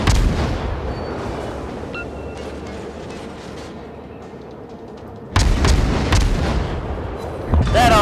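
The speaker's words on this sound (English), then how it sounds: "Torpedoes to start. Those are some lovely torpedoes." Naval torpedoes and ship gunfire in the World of Warships battle game, a sustained rumbling roar with a sudden loud boom burst partway through and another heavy blast near the end.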